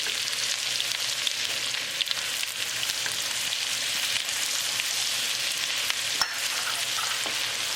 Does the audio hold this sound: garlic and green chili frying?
yes